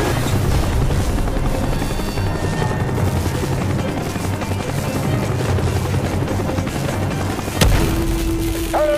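A helicopter in the Call of Duty: Black Ops video game drones loudly with a steady rotor throb, joined by a sharp bang near the end and a brief tonal beep.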